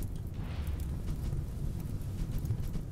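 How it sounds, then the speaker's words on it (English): A large blaze crackles and roars steadily in the Rimworld game, on a Lone Wanderer extreme desert map, as a dense low rumble that stays constant and loud throughout with no talk over it. "That is a big fire, admittedly."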